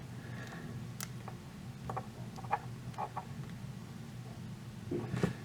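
An XLR connector gets snapped back together, its plastic casing and metal parts making faint small clicks and scrapes over a low steady background hum.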